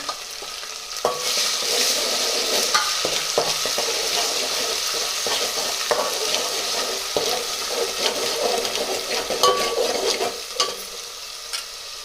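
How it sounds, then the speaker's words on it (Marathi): A paste of ginger, onion and tomato frying with browned onions in a pot for a country chicken curry, loud continuous sizzle broken by repeated spatula scrapes and stirring knocks, no talk. "आता त्यामध्ये मी आले कांदा आणि टोमॅटो त्याची पेस्ट टाकते"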